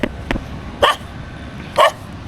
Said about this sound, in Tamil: வந்தோடனே நாய் துரத்துது காய்ஸ்